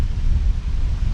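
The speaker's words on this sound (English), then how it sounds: "Whoa, it's windy." Outdoor wind buffets the microphone in a loud, continuous low rumble for just over a second, with no speech over it.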